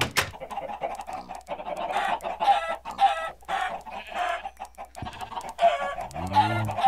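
Minecraft chickens clucking in rapid overlapping bursts, a busy flock of game fowl calling near and loud with no talk over them.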